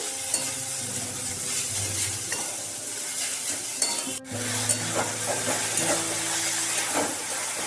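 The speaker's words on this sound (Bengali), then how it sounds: "দিয়ে দিচ্ছি পরিমাণ মতো লবণ, দিয়ে দিচ্ছি হলুদ, একটু নেড়ে চেড়ে নিচ্ছি।" Chicken filling with salt and turmeric is stirred in a hot pan, giving a steady close sizzle with repeated scraping strokes of the spoon and a brief clatter midway, no voices.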